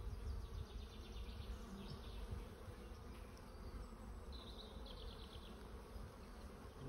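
Dense, continuous buzzing of many bees around an open hive, a low steady drone close by with occasional higher individual buzzes passing near.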